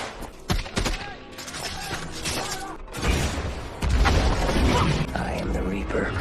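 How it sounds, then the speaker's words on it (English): Bursts of rapid gunfire and sharp cracks come in clusters, followed by a denser rumbling barrage with booming impacts. "the SEALs begin to lay down gunfire with RPGs raining down on them"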